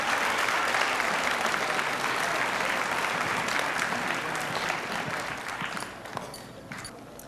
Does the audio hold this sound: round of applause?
yes